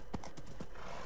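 Quick hoofbeats of a horse galloping in Minecraft, a few fast clip-clops in a short burst with a faint whinny-like tone.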